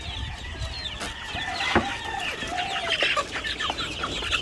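Hungry chickens cluck in a coop at feeding time, many birds overlapping in a busy, continuous chorus of clucks and squawks at close range, with no one speaking.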